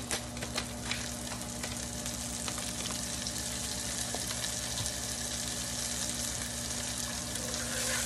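Fish fries in a pan with a continuous close sizzle and crackle, accompanied by a steady low hum, with no talk.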